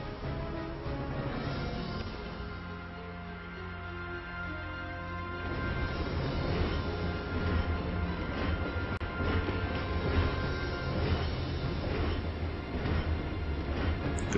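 A train in Valkyria Chronicles 4 rumbles steadily along with rhythmic clattering of wheels that grows louder partway through, with no talking.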